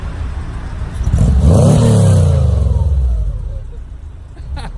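A Volkswagen fitted with a small aftermarket exhaust and a BRZ engine revs up loudly nearby, climbing to a peak and falling back, followed by a quieter idle.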